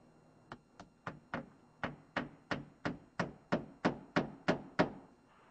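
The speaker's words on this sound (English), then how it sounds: "Once our window's into place, we can nail it in with a roofing nail." Roofing nails being hammered into a window frame while building a garage, heard as about fourteen sharp, close hammer blows in a quick, fairly even rhythm that grows louder toward the end, with no talking.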